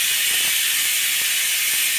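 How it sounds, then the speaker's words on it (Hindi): A pressure cooker whistles loudly and continuously while boiling potatoes in a home kitchen, a steady high hissing steam jet with faint rattling clicks beneath, close and alone without talking. "और कुकर में लग रही है सीटी"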